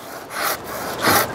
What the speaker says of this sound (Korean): 톱으로 자를 경우에는, 자, 제가 한번 그냥 그대로 잘라 보겠습니다